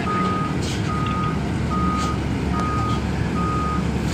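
A large truck pulling out on a road stripped of asphalt, its reversing alarm beeping in a steady regular rhythm over a constant loud engine rumble.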